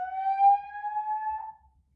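A fire alarm sounding as a single sustained electronic tone that holds steady for about a second and a half, then cuts off into silence.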